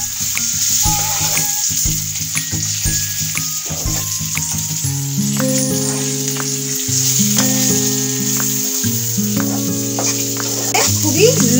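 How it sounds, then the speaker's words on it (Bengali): Fish fries with onions and chili powder in a pan over a low flame, a steady close sizzle lasting throughout, with occasional stirring and a voice talking over it. "লো ফ্লেমে আরো দু তিন মিনিট এগুলিকে ভাজবো"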